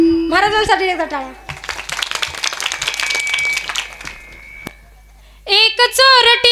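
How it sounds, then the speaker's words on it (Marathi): An audience at a Marathi kirtan performance claps in a dense burst of applause that lasts a few seconds, with a singing voice before it and again after it. "महाराजांसाठी एकदा टाळ्या"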